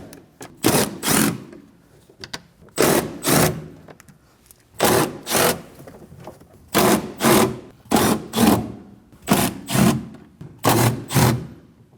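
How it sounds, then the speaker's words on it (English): A ratchet with a 10mm socket backs bolts out of a Kia Optima front door while the power window regulator is replaced. Loud, close bursts of ratcheting come in paired rhythmic groups, separated by short pauses. "Using a 10mm socket, take them out."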